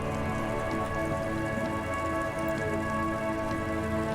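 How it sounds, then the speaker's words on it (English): Steady rain pours on surfaces in the video game Disco Elysium, a dense, even hiss of drops with no pauses or voices. "It's raining again."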